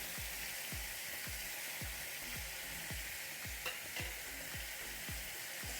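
Ground spices (turmeric, chilli, cumin and coriander) with salt stirred in a hot pan for chicken curry, a soft continuous sizzle with regular rhythmic scrapes of the spoon about twice a second, close but quiet.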